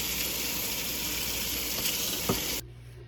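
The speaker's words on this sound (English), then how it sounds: "I've got this underneath some just running water right now in my sink, hot water" Hot water runs steadily from a sink tap onto a cast iron grill pan, a continuous close gush that stops abruptly near the end, leaving faint room hum.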